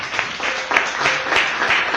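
A church congregation applauds together during a Spanish-language sermon, steady clapping that swells in waves at moderate loudness with no voices over it.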